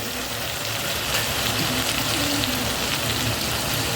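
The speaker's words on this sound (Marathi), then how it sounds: "हिरवी मिरची टाकली ती छान अशी तळून घ्यायची आपल्याला" Green chillies fry in a hot cumin and garlic tempering, giving a steady, loud, close sizzle and crackle that holds evenly throughout with no pauses.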